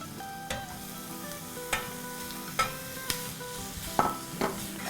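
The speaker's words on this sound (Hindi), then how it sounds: "अब हम इसमें अपना कीमा डाल देते हैं" One pound of minced keema fries with softened onions in a pan, a soft continuous sizzle punctuated by regular clinks and scrapes from stirring.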